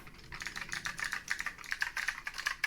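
Rapid, steady typing on a clicky old computer keyboard with good key travel, close and crisp, a dense run of sharp individual keystrokes with no voices.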